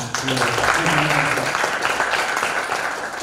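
Participants clap in a meeting or mock session room, brief applause mixed with voices and some tonal sound early, continuing fairly evenly to the end.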